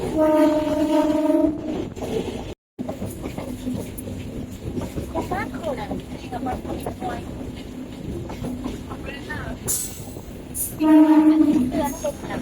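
A MEMU passenger train blows its horn, then rumbles and clatters past at a station, with a second horn blast near the end. People talk throughout.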